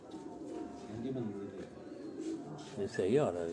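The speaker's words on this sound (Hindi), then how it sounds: "ये प्योर ब्रीडर कबूतर है जी हमारा।" Pure-bred Faisalabadi pigeons coo in low, throaty rolling calls close by, while someone talks over them.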